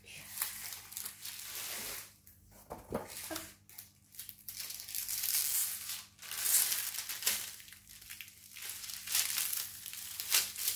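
Crinkly, crackling rustles of plastic film come in bursts throughout, fairly close, with brief handling pauses and a soft steady hum underneath.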